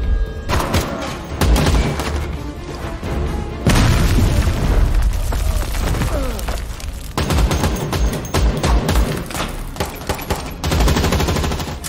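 Action-film gunfire erupts in rapid bursts, punctuated by heavy booming explosions and thuds, loud and intermittent across the scene.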